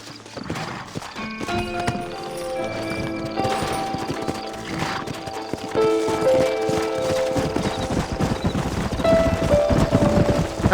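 Steady hoof clip-clop from a horse in the video game Red Dead Redemption, with occasional whinnies, under a continuous bed of music throughout.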